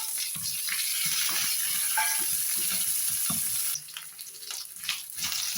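Ginger and green chili frying in a pan for rava upma, a bright continuous sizzle with rhythmic spatula stirs and scrapes, easing slightly near the end, close by with no talking.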